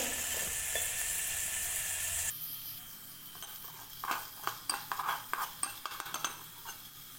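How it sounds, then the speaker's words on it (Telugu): Chopped onion frying in a pan at home, a bright steady sizzle that settles lower partway through, then a run of quick metallic clinks and scrapes as a utensil stirs against the pan. "ఆనియన్ ఫ్రై అయిపోతుంది"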